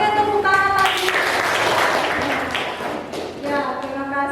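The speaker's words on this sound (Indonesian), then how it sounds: "Oke, tepuk tangan lagi." Applause from a classroom of students: a burst of clapping swells in the middle of the clip and then fades, with voices talking over the start and end.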